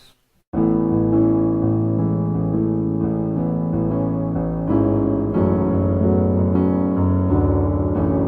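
A piano plays the verse of a song as sustained chords and melody notes, steady and close, alone without voices after a brief quiet start.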